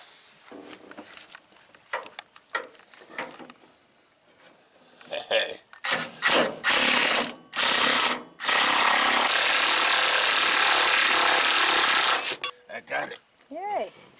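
A ratchet wrench works a shock absorber nut loose on an HDT truck, with stretches of rapid loud clicking and rasping close by, separated by pauses and bits of talk.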